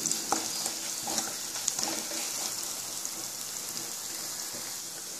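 Green chilies frying lightly in hot oil in a pan, a steady soft sizzle with a few faint stirring clicks and no talking.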